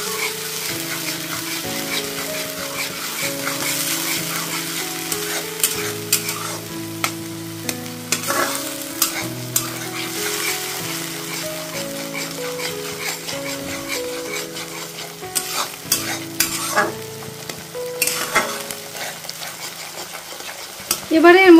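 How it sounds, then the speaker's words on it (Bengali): Tomato, ginger and chilli paste sautéing for a rohu fish curry with cauliflower and potato, a continuous close sizzle with frequent scraping stirs of a spatula against the pan, loud and steady with no talk. "এই পেস্টটা দেওয়ার পর ভালোভাবে এটা কষিয়ে নেব।"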